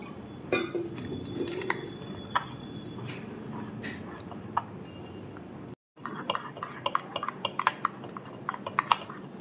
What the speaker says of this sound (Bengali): আমি একটা চামচের সাহায্যে এটাকে মেখে নিচ্ছি